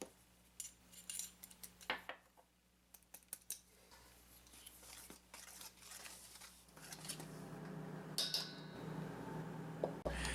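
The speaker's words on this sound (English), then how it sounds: "mix together our ingredients using a pound of flour, then adding cinnamon, cloves, nutmeg, and ginger" Utensils clink and scrape against a bowl while dry fruitcake ingredients are stirred together: flour with cinnamon, cloves, nutmeg and ginger. The taps and scrapes come in irregular bursts, close and moderately loud, with no one talking.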